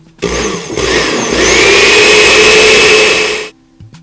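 A blender pulses hot vegetable soup in one loud, close whirring run of about three seconds. The motor pitch climbs as it spins up, then cuts off, with no talking.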